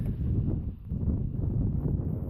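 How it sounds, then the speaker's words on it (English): Steady low rumbling buffeting of wind against a microphone, continuous and fairly loud throughout with no other clear sounds. "sorry about the wind"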